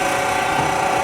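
A Warner & Swasey Model 4630 turret lathe runs at 45 RPM with a steady, even mechanical hum and whir, loud and close, holding constant without pauses.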